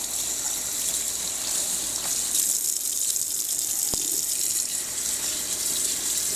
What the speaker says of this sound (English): Let's go turn the water on.